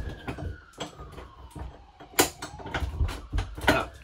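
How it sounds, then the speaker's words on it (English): A sticking bathroom door in a camper is forced open, giving repeated close creaks, scrapes and knocking jolts in an uneven rhythm with no talk. "If I can get the door open."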